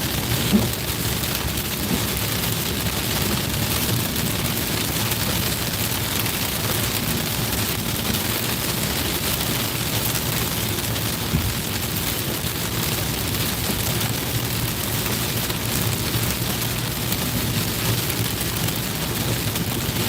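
Steady rain roars against a car driving on a highway, a dense unbroken hiss mixed with low road rumble that holds constant throughout.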